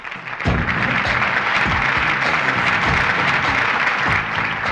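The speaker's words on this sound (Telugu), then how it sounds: "క్లాప్స్." Steady applause from a crowd at a prize-giving, continuous dense clapping at constant loudness with a few sharper individual claps standing out.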